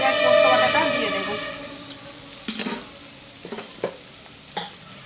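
Poppy seed paste hits a pan of fried pointed gourd with a loud initial sizzle that fades into softer frying, broken by several sharp scrapes and knocks of a spatula stirring.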